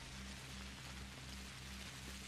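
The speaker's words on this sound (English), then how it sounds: "Oh, it's raining." Rain falling in the video game Pathologic, a steady dense hiss of drops on surfaces, constant and moderately loud with a faint low hum beneath.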